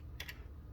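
Two quick, faint keystrokes tap on a computer keyboard close by in a quiet room, followed by low background hum.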